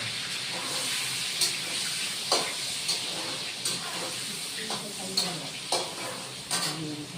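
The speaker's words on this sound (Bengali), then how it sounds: "পটলটা ভেজে নিব" Pointed gourd (potol) fries in a pan with a soft, steady sizzle, punctuated by repeated sharp clinks and scrapes of stirring at a regular pace, close and moderately quiet.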